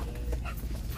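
An American Bully dog gives short whimpers and yips close by, with soft panting and movement around it.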